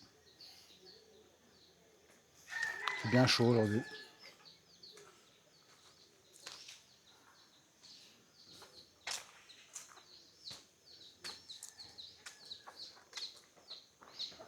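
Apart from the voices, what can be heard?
hens and chick clucking at Wat Umong temple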